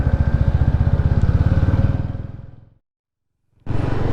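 A TVS Ronin 225 motorcycle runs with a loud, close, rapid pulsing engine beat that fades out, drops to silence, then cuts back in abruptly.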